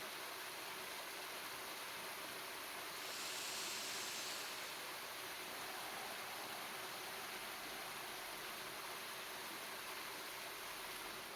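A flowing river stream rushes steadily in a continuous, even broadband wash, fairly quiet, with no voices.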